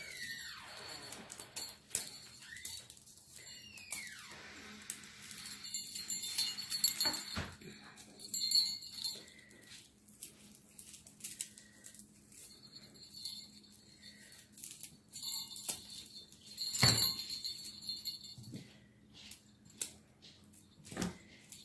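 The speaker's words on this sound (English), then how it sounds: "I'm just going to take my scissors and just trim these little white pieces off." Quiet snipping of scissors trimming small white pieces from a monogram wreath, with small clicks and light clinks here and there, close and sparse against a faint background.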